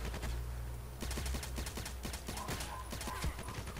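Silenced gunfire from a weapon in Contract Wars, a rapid run of muffled suppressed shots in quick bursts, close and fairly loud with no talk over them.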